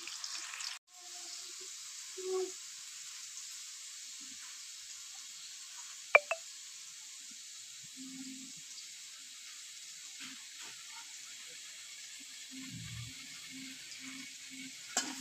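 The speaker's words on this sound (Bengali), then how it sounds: "এগুলো আমি ভেজে নেব, আপনারা দেখতে থাকুন।" Banana flower, green chilies and onion fry in oil, a faint, steady hiss running the whole time with a few small clicks and soft clatters scattered over it.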